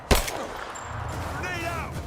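Gunfire from a Rise of the Tomb Raider firefight, a sharp close shot at the start followed by faint rattling fire and background game sounds.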